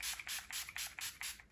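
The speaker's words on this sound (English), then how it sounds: "I'm just gonna use this hyaluronic acid spray" A hyaluronic acid face spray gives a rapid series of about seven soft, hissing spritzes in a quick steady rhythm, quiet and close, with no talking.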